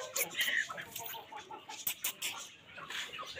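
Several Aseel chickens cluck and squawk in scattered bursts at moderate distance, with faint background rustling between the calls.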